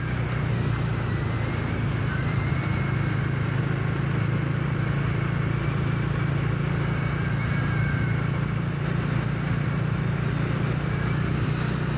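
Kawasaki Dominar 400 motorcycle engine running in slow traffic in Bacoor, a steady low rumbling drone with continuous broadband road and wind noise, constant and close, with no speech over it.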